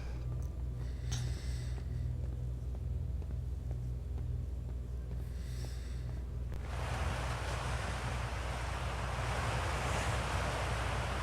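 A waterfall in the video game Outer Wilds roars as a continuous broadband rush. It sits lower and rumbling at first with faint tonal game sounds, then swells abruptly into a louder, brighter, hissing torrent partway through.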